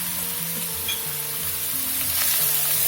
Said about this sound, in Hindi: इसको भी इसके साथ भून लेंगे